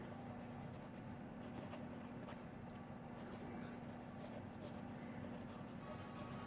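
A Jinhao 80 fountain pen with a fine nib scratches softly across paper in continuous close, faint strokes.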